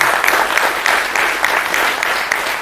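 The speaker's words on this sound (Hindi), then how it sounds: "इसलिए हमें अपने देश के लिए और अपने आप के लिए ताली बजानी चाहिए।" An audience claps steadily in dense, continuous applause, loud and close, with no speech over it.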